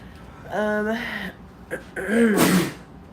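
A close, sharp sneeze: a drawn-out voiced intake followed by an explosive breathy burst.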